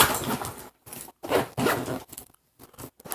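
The worn zippers of a co-angler fishing tackle bag are pulled open and shut in several close, raspy bursts separated by brief silences.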